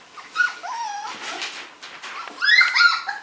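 Four-week-old Australian Shepherd puppies whimper and yip up close, thin rising whines and short squeaky cries overlapping in bursts, ending in a louder cluster of high yelps.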